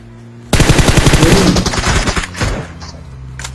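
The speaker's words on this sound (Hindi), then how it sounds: "मेरे को लगा उसने फायर किया" Rapid automatic gunfire from PUBG Mobile bursts in loud and close, a dense rattling string of shots lasting a couple of seconds before tapering into a few scattered reports and quiet.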